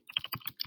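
Quick keystrokes tapped on a computer keyboard while typing a short description, a brief burst of several close, crisp clicks in an uneven rhythm with no talking.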